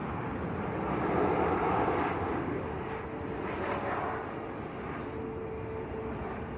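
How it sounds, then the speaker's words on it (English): A Ryanair airliner arriving from Barcelona at Manchester Airport rumbles and roars in the distance, a broad steady jet wash swelling slightly then holding, with wind buffeting the microphone and no talk. "Ryanair from Barcelona."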